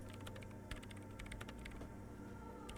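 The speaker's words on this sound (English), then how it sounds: "she's typing above the keyboard. But the keys are making a noise." Keyboard keys clicking in the Disco Elysium video game as a character types, a quick irregular run of light taps over a steady low background hum, with no talking.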